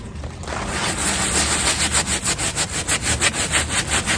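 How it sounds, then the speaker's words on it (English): A wet brush scrubs a felt fabric grow bag in rhythmic back-and-forth strokes, the pulses growing regular and distinct toward the end, close and loud with no voices. "Now we're actually scrubbing it off again."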